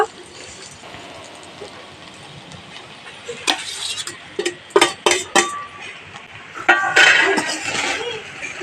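Fried rice with chicken, egg and prawns being stirred and mixed in a pan, a run of sharp clinks and scrapes from a utensil against the pan that grows busier in the second half over a quiet background.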